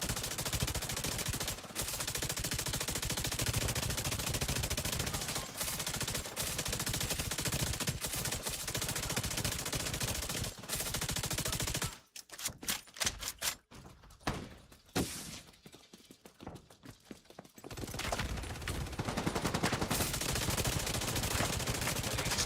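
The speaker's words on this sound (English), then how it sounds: "Gun does not sound very strong." Rapid, continuous gunfire rattles in The Division 2, a dense thin-sounding stream of shots, then breaks into scattered bursts and pauses before the steady fire resumes.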